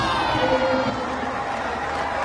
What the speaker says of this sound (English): the entire crowd at the Lal Bhai Contractor Cricket Stadium is up and applauding the knock of Solomon Mire